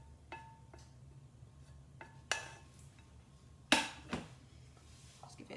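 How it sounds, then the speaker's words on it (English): Fried onions are scraped from a frying pan into a saucepan of pasta. Metal utensil clinks and scrapes against the pans come in scattered close taps, with two louder clanks, over a low background hum and no talking. "I'm going to get my onions that have fried nicely and scrape those into the pan with the pasta."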